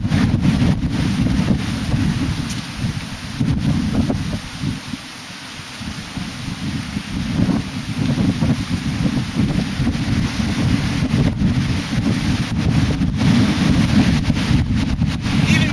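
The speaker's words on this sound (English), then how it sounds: "Even when it's windy like this, you can swim at the Pearl." Strong wind blows by the sea in Fiji, buffeting the microphone with heavy low rumbling gusts that rise and fall over a steady wash, loud and close with no voices.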